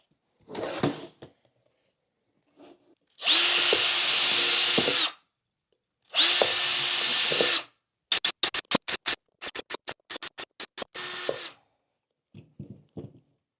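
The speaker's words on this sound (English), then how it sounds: "Okay, it's all drilled out." A power drill bores holes through stacked hydroponic trays in two long whining bursts, then a string of short rapid pulses, with quiet pauses and faint handling clatter between them.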